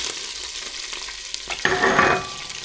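Garlic hits hot butter in a pan, a soft sizzle rising sharply as it drops in, with a brief stirring scrape, close and clear with no voices.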